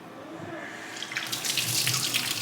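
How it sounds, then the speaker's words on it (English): Tap water runs steadily into a kitchen sink while rice is rinsed, a close hissing splash that swells and grows louder partway through. "rinse it off a good 5 times until you see the water is clear."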